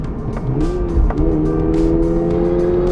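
Toyota GR86 sports car engine while driving, a steady, loud engine drone rising in pitch as it accelerates, with a brief tyre squeal and rumble near the start.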